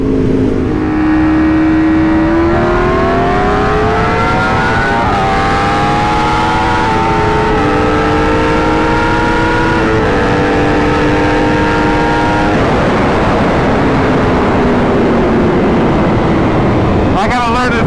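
A 2022 Aprilia RSV4 Factory racing a BMW M 1000 RR on track: a loud, close sport-bike engine wails and climbs through the revs, with gear shifts stepping the pitch down before it rises again, continuous throughout.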